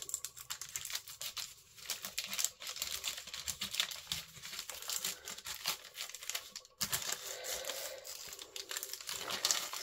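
Paper is ripped and crinkled by hand to make faux rice paper, giving close, irregular bursts of tearing and crumpling that come and go over several seconds, with no talking.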